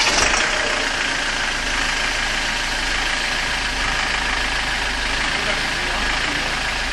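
A Ford Transit engine, just back after a starter motor one-way clutch repair, runs with a loud, steady, close rumble that holds unbroken throughout.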